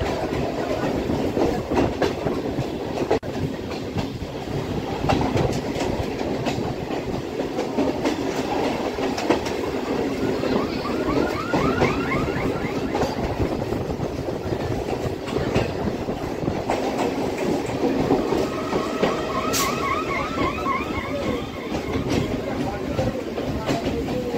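Kolkata Circular Rail train running toward Barabazar station, a steady rumble with rhythmic clickety-clack of wheels on track and occasional faint squeals, continuous and fairly loud throughout with a voice speaking over it.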